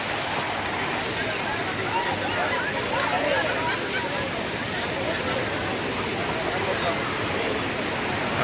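Hogenakkal waterfall roars steadily with a dense, continuous rush of flowing water filling the scene, heard up close at the tourist spot with no clear voices over it.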